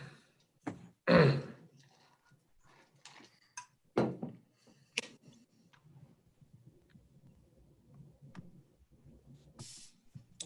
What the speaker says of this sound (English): heard you clearing your throat like you want to